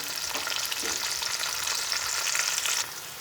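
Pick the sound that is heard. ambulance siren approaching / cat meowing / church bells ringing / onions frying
onions frying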